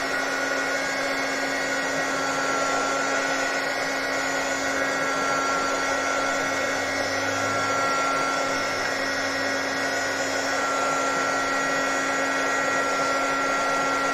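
A hair dryer blowing steadily on a wet craft paint layer, a loud continuous whirring hiss with a constant tone that runs unbroken throughout.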